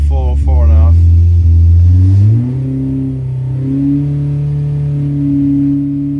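A 1040 engine on a dyno revs under load, its deep, steady drone climbing in pitch early on and then holding a loud, sustained note with a slight rise and fall.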